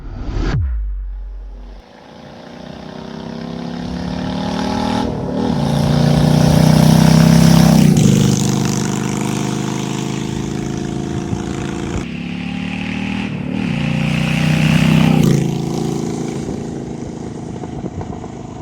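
A Honda Shadow bobber motorcycle with carburetors rides past, its engine loud and close as it revs and accelerates through several gear changes, with no talk over it.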